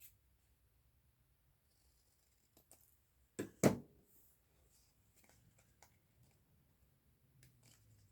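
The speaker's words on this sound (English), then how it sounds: "Let's cut it in a tag." Scissors snip through paper while a craft tag is cut from ephemera, two short close crisp snips in quick succession, followed by faint light rustling and handling sounds in an otherwise quiet room.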